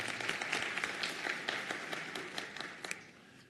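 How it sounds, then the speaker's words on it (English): Applause from a graduation ceremony audience, with dense, steady clapping from many hands throughout that slowly thins toward the end. No voices stand out. "Round of applause for Dr. Sasser"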